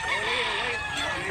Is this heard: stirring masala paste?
no